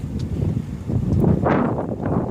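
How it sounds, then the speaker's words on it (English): Outdoor wind buffeting a microphone beside a 2016 Mini Cooper, producing low, uneven rumbling gusts that swell and fade over a couple of seconds, with no speech. "It's a little windy out here, so bear with me."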